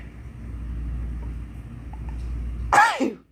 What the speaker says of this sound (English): Oh, I have to sneeze and I can't.